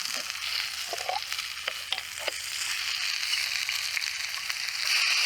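Spring onion frying in hot oil over a charcoal fire in an outdoor camp kitchen, with a dense, steady hiss and crackle, a few light scrapes from stirring, and close and continuous sound throughout.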